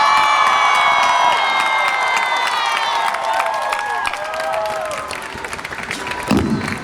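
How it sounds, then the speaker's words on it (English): Crowd at a Texas charter school rally cheers, whoops and applauds for a school band, a dense sustained roar with high children's shouts fading slightly toward the end. "help me give a really enthusiastic round of applause to the Houston Gateway Band"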